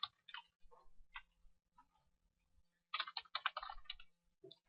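Typing on a computer keyboard, soft clicking keystrokes in scattered short bursts with a quick dense flurry near the end, close but quiet in a still room.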